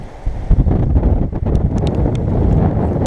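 Strong gusts of a wind storm buffet the microphone while fishing, a loud continuous rumbling roar with brief surges.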